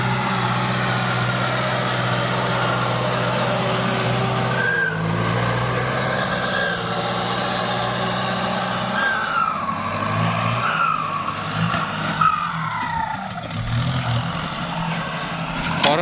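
A used Kubota L5018 farm tractor engine runs steadily and loudly, a dense low droning hum with shifting tonal whines over it throughout, with no talking.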